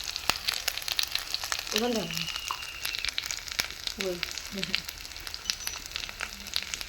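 Chicken masala fries in hot oil, a steady crackling sizzle throughout with occasional scraping stirs, while someone speaks briefly over it in Bengali.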